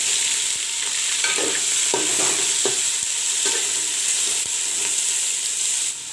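Half a kilo of sliced onions fry in a pan for Bhuna Jeera mutton curry, giving a steady, loud, close sizzle broken by scraping stirs.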